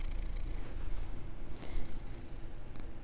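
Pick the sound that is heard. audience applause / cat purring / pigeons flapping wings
cat purring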